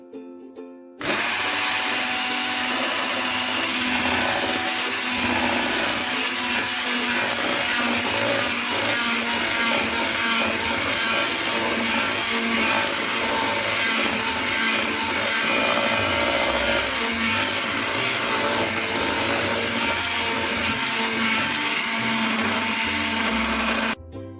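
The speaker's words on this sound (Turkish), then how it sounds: "Ama önce tabii ki çırpacağım." Electric mixer whisking cocoa cake batter for a two-colour sponge cake, a steady loud whirring drone that starts abruptly and runs continuously for over twenty seconds before cutting off, with no talking.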